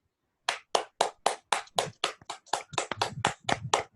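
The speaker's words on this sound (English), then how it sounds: "So can we all clap together now?" About fourteen sharp, evenly spaced claps from a group clapping in unison during a laughter yoga session, crisp and close, with a slight quickening toward the end and no talk.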